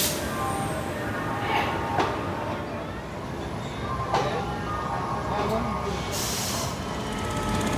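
A passenger train pulls out of a station, a steady rumbling roll with occasional hiss and clank bursts, while a voice talks over it.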